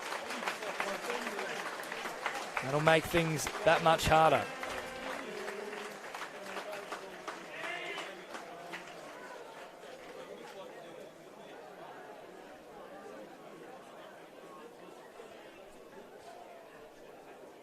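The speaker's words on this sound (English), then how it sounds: "The applause rings out across Seymour Shore" Applause from the crowd at a football grand final, a burst of clapping and cheering mixed with a commentator's voice, then settling into a low murmur of chatter.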